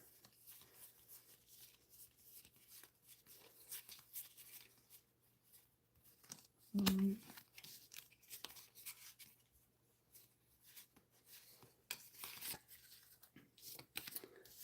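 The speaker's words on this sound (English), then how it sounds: "Let me get some cards here to show." Playing cards from the Libertas card game being handled and shuffled, with faint soft rustling and sliding, one louder snap in the middle and quiet background hum, close and low in level.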